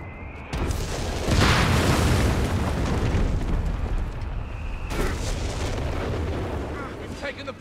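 Explosions and artillery fire roar in Company of Heroes 3, a loud continuous rumble of blasts with a fresh impact partway through, and muffled voices underneath.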